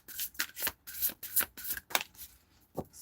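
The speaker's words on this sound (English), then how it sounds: "Shuffle." A deck of tarot cards being shuffled, close and crisp, a quick run of riffled bursts followed by a short pause and one final flick.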